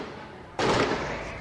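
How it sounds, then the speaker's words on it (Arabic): Heavy gunfire near the Israeli consulate in Munich: a sudden loud, dense burst of cracking shots breaks in after a quieter moment and carries on as a sustained roar. "التي يسمع فيها إطلاق نار عنيف"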